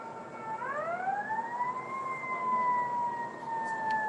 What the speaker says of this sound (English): Oh, there's a fire truck.